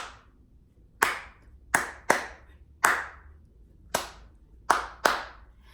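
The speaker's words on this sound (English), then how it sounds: "So I'm going to count and clap the last one and you guys follow." Sharp single hand claps in a classroom rhythm exercise, eight crisp claps spaced unevenly in a syncopated pattern, close and clear over near silence.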